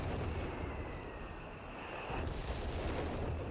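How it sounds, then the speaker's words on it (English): Artillery fire in Company of Heroes 3, a continuous dense rumble of booming shell blasts and impacts, loud and sustained with no talk. "Even more artillery they unleashed."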